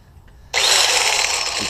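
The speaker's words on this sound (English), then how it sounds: "what I'm gonna use to cut this is it's a standard angle grinder" A standard angle grinder bites into a steel bull bar for a 2011 Ram 1500, its loud, harsh cutting whine starting abruptly and holding steady up close.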